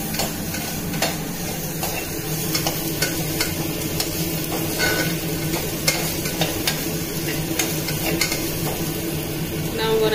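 Frying and stirring in a pan while cooking sambar, a continuous close sizzle broken by frequent clinks and scrapes of a utensil against the metal, with no talking.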